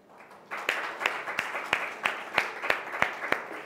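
Conference audience clapping as a panelist is introduced at the podium, starting after a brief quiet moment and continuing as a steady, moderately loud patter with distinct nearby claps.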